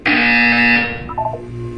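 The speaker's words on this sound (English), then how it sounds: "You will hear a buzzer." A Portal 2 test-chamber buzzer gives one loud, harsh electronic blast of under a second, then fades as softer game tones follow.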